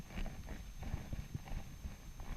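Horse hooves thud in an irregular walking rhythm on soft riding arena footing during a schooling lesson, fairly close, with no talk over them.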